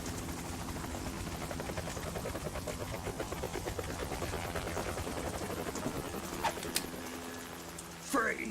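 A helicopter in the video game Metal Gear Solid 2 drones with a steady rotor chop throughout, loud and continuous, as voices speak over it near the end.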